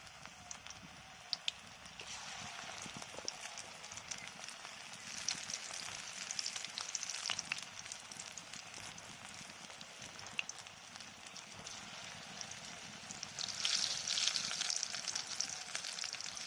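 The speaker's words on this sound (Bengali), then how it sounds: "এখন এবার আমি তেল গরম হয়ে গিয়েছে, আস্তে আস্তে পকোড়াগুলো ছাড়বো।" Pakoras made from thankuni leaves frying in hot oil, a steady close bubbling sizzle with crackling pops throughout, growing somewhat louder toward the end, no talk.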